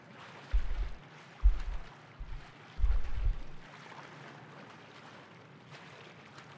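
Water in the horror game Little Nightmares, a low rumbling wash with several heavy surging swells rising and falling over a steady hiss, loud and close, with no talking.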